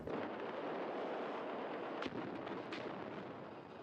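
Continuous heavy barrage of mortar and artillery fire in a multiplayer shooter game, dense rumbling blasts with a sharper burst near the middle, loud and sustained without speech.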